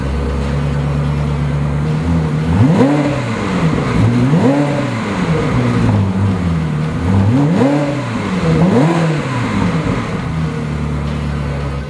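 A 2001 Ferrari 360 engine on a cold, wet morning idles steadily, then rises in three or four rhythmic revs that climb and fall back, loud and close, with no talking.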